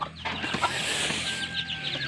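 Young chicks being raised in a brooder while feeding, with dense overlapping high peeping and soft clucking calls, close and continuous for about two seconds, with no talking.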